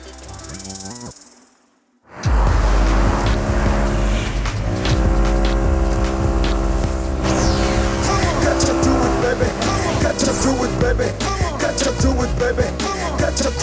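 Car driven recklessly in a movie scene, loud roaring engine with long screeching tire squeals and skidding, starting abruptly after a short burst of music and continuing for over ten seconds.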